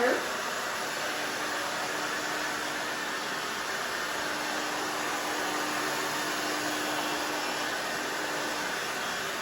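A hair dryer blows steadily on short pixie-cut hair, a constant airy whoosh running throughout at moderate level without breaks.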